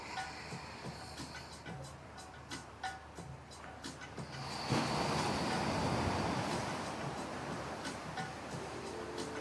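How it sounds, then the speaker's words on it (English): Waves crash on a shore, faint and distant at first, then a fuller swell of rushing surf rises midway and lingers, with scattered clicks and soft rumbles around it. "Just listening to the sound of the waves crashing."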